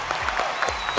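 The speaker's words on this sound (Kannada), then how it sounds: "ಈಗ ನಮ್ ಗುರುಜಿಗೆ ಬರ್ಲಿ ಒಂದು ಜೋರಾದ ಚಪ್ಪಾಳೆ." A studio audience at a Kannada comedy show applauds, a full burst of clapping that swells in quick uneven pulses over a short stretch, with faint voices mixed in.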